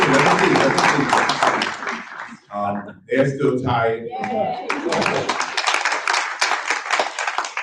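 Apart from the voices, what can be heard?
audience applause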